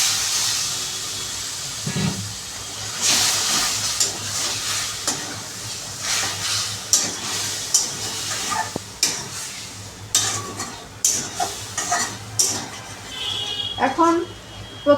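Water hits a hot pan of Bengali bitter gourd with a loud hiss and bubbling sizzle, followed by a run of scraping stirs and sharp utensil clinks against the pan as the steam settles.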